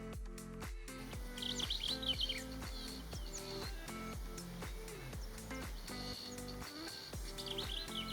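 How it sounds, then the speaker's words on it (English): Wild birds call outdoors in a bush birding setting, bright chirps and tweets scattered through the middle, layered over a steady, loud rhythmic music bed with a regular beat. "they make calls, and each bird will have its own individual call"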